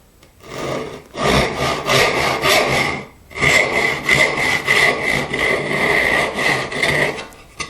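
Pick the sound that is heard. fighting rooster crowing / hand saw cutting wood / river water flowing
hand saw cutting wood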